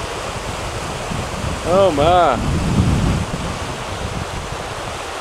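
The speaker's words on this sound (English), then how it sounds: "There's a nice breeze up here too." Mountain breeze rushing across the microphone in the Great Smoky Mountains near Elkmont, a steady broadband wind roar with a river flowing nearby, briefly overlaid by a short exclaiming voice.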